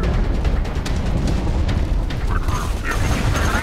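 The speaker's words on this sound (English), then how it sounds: "Sounds like you're shooting at me." Gunfire in the Borderlands 2 video game against robots, a steady loud clatter of rapid shots and mechanical clanks with a voice talking over it.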